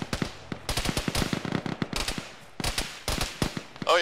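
Gunfire in an Arma ShackTac military game session: a rapid string of sharp cracking shots and bursts, fairly close and sustained for several seconds, with short gaps between volleys.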